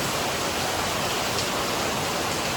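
Heavy rain driven by strong wind makes a dense, unbroken hissing roar that stays loud and even throughout, with no voices.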